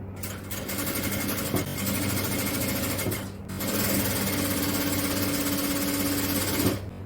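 A sewing machine stitches an edge seam on piping fabric for an XL jalabiya, a close continuous mechanical drone that runs without a break apart from a short dip midway, with no talking.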